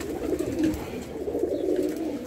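Pigeons in a loft coo softly and continuously at close range, a low throaty murmur of overlapping birds with faint rustling.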